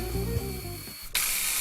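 A Graco TrueCoat Pro II paint sprayer fires a loud, steady hiss of spray that starts abruptly near the end and carries on alone, after a quieter stretch of low motor hum.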